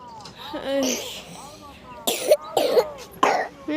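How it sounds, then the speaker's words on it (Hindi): A young daughter coughs in a few sharp, close bursts after a stretch of softer vocal sounds, each cough loud and abrupt with short pauses between. "कैसे खांसत है, कैसे खांसत रानी बेटी है।"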